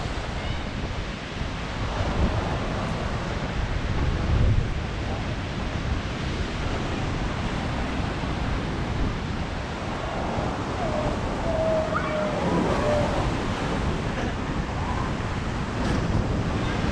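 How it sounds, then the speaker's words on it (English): Ocean surf at Cronulla Beach, a continuous broadband wash of breaking waves with gusts of wind buffeting the microphone, moderately loud and steady with slight swells. "You can see the waves."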